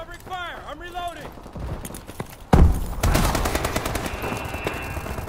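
Covering gunfire rattles in a fast-paced shooter video game, with sustained loud bursts of automatic fire erupting after a warbling electronic effect and continuing to the end, with game chatter mixed in.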